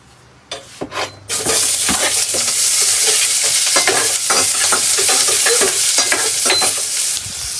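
Food frying in a pan while a ladle stirs it, with a loud, steady sizzle and scraping strokes that continue after a few soft knocks at the start.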